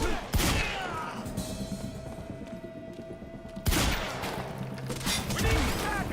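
Gunfire in the video game Quantum Break: a sharp burst opens a stretch of dense shooting, with a second loud volley crashing in mid-clip over a steady sustained tone; a voice is faintly present.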